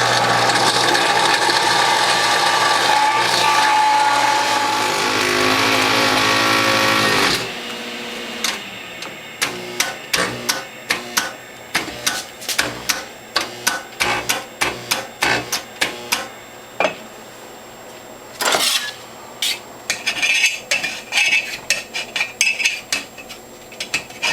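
A Norwalk juicer's cutter grinds sugarcane stalks: a loud, steady mechanical grinding roar for several seconds, then a run of rapid, irregular clattering and ratcheting clicks as the stalk is chewed through.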